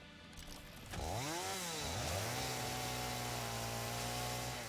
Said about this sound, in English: Let's get out the chainsaw.